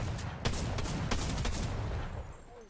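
Shotgun blasts in the Fortnite video game, a few loud booming shots over a dense rumble of continuous gunfire and battle noise, close and heavy throughout with no talking.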